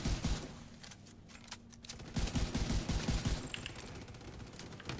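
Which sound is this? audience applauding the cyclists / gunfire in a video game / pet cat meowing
gunfire in a video game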